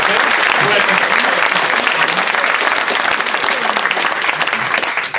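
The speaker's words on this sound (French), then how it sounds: "Daniel mérite vos applaudissements" Loud, dense applause from an audience at a political meeting in Montluçon, sustained and steady for about five seconds with some voices mixed into the clapping.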